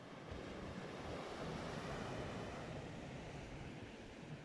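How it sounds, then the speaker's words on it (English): Fresh, cold southwesterly wind buffets the microphone on a beach at Shoreham, a steady broadband rush with surf mixed in, continuous for the whole stretch and with no talk. "It's quite a fresh, cold breeze, really."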